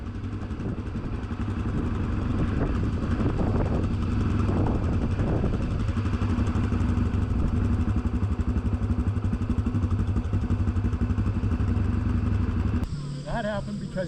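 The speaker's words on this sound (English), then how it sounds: "He was bogging the motor down." A dual-sport dirt bike engine runs loud and close, bogging down with its note straining and lugging at too-low revs, then cuts off abruptly near the end.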